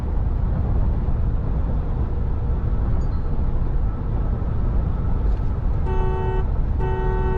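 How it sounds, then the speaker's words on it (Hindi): A Mahindra Thar Roxx 5-door sounds its horn twice in short blasts while driving, over a steady rumble of engine and road noise inside the cabin. "लेफ्ट में हॉर्न साफ पता लग रहा है इधर है"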